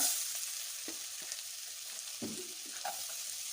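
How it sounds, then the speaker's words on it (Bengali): Chopped onions fry in butter in a wok, giving a quiet, steady sizzle broken by a few soft scrapes and clicks of stirring. "ওই একই কড়াইতে আবার বাটার দিয়ে তার ভিতরে পেঁয়াজ কুচি"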